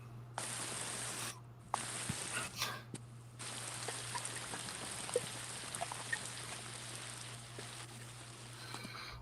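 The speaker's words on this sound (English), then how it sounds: "I can hear that rain clear as day." Steady rain patters outdoors during a fishing outing, a soft continuous hiss with scattered drip ticks and a couple of brief louder rustles, no voices.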